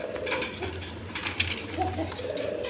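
Silver red pigeons at a pigeon farm give soft, low cooing close by, with scattered light clinks and rustles in the background.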